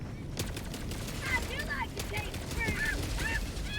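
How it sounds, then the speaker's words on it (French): Rapid gunfire bursts in the Helldivers 2 video game crackle over a dense, continuous battle din, with short repeated volleys and chirping tones scattered through a loud, busy mix. "Ça canarde dans tous les sens, c'est bien."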